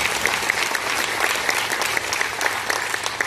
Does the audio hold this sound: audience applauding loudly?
yes